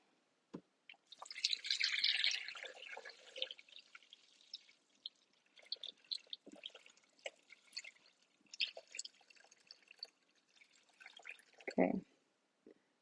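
Water poured into a Thermomix TM6 bowl, a splashing, dripping pour that starts strong and trails into intermittent drips, close by with a speaking voice mixed in.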